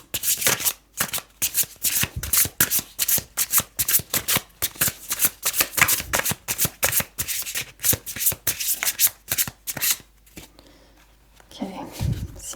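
A deck of tarot cards being shuffled by hand, close and crisp, with rapid repeated riffling bursts in a steady rhythm, a brief pause, then a final shuffle with faint handling at the end.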